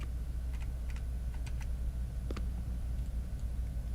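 Computer keyboard keys pressed in scattered, irregular taps during play of the game Poppy, quiet clicks sitting over a steady low background hum.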